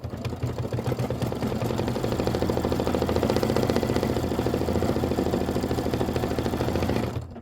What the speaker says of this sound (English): This is 3 minutes of stitching.